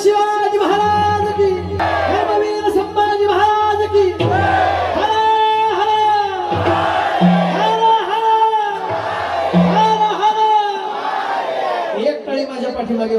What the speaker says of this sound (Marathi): सगळ्यांचा आवाज आला पाहिजे माझ्या पाठीमागे जय म्हणून